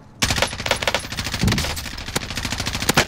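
Rapid automatic gunfire in Call of Duty: Warzone, dense bursts of shots rattling continuously for about three seconds, loud and close, with no voices over it.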